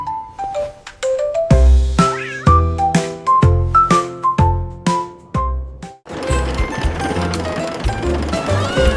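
A cat meows inside a French children's nursery song, its cries set among bright plucked melody notes and bass beats, with the music thickening near the end.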